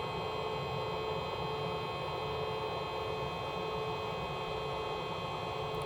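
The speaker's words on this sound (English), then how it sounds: "So this power washer will run the electric motor, but it's got a bypass for the pressure." An electric power washer's motor idles with its pressure bypassing while it runs off an EGO 56V 2000W lithium portable power station, giving a steady, unbroken mains-like hum with a hiss layer and no talk.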